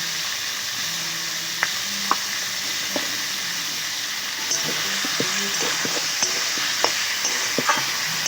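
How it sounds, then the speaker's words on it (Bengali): Chicken, potato, ginger, garlic, onion and tomato sauté together in a hot pan: a steady oil sizzle with occasional sharp clicks and scrapes of a spoon stirring, close up and with no voices. "চিকেন আর আলু আর আদা, রসুন, পেঁয়াজ, টমেটো একসঙ্গে খুব ভালো করে আগে কষবো"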